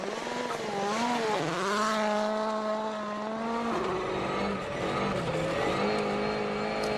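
Sébastien Ogier's Volkswagen Polo R rally car at the 2013 Rallye Monte-Carlo, its engine screaming loud and close, pitch dropping and climbing through gear changes as it revs hard.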